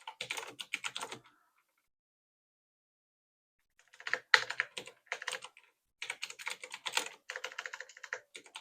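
Bursts of rapid clacking keystrokes on a new computer keyboard in a craft room, close and clear, with a long silent pause in the middle before the typing resumes.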